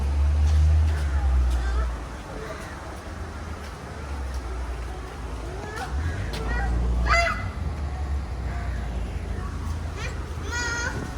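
Birds honking at a zoo, heard as a few goose-like honks amid crowd murmur and ambient noise, with people talking nearby.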